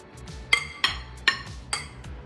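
A serving spoon clinks against a plate four times while a feta, tomato, onion and mushroom salad is spooned beside beef ribs, sharp close taps spaced about every third of a second over low background noise.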